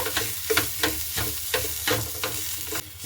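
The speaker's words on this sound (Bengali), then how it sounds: "এবার খুব ভালো মতো করে নাড়াচাড়া করে নেব" Grated potato and semolina with chopped coriander being stirred in a frying pan, a steady sizzle with rhythmic scraping strokes about every half second, close and fairly loud, no voices.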